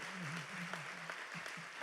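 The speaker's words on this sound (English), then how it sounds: "Let's give our inductees a round of applause" A crowd at a university Hall of Fame induction ceremony applauds the inductees, a faint, steady spread of clapping with a low voice murmuring underneath.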